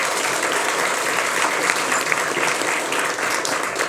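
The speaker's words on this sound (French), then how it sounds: "On peut l'applaudir." A studio audience on a French talk show applauds a newly introduced guest, a loud, even wash of clapping from many hands that holds steady for the full few seconds.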